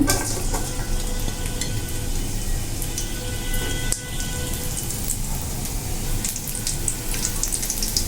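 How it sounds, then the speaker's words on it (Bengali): Garlic sizzles in hot oil to temper lentil dal, a steady dense crackle of frying that runs evenly throughout, close and fairly loud with no talking. "ডালটা বাগার দেওয়ার জন্য দিয়ে দিচ্ছি তেল দিয়ে দিচ্ছি রসুন"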